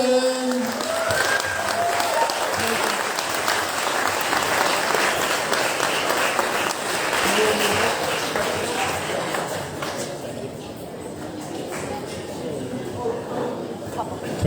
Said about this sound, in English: Everyone give a final round of applause for Dylan.